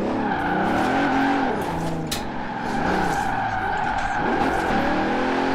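A heavy, over-two-tonne car with a 6.75-litre engine drifting in Forza Horizon 4, its loud engine drone rising and falling continuously while tyres skid and squeal through corners, with no talk.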